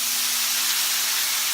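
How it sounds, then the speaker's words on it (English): Steady broadband sizzling hiss from tomato sauce hitting a hot pan of toasted rice, continuous and fairly loud with no voices. "how it just sizzles up like this."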